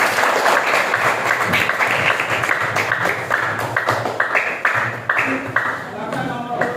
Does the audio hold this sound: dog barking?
no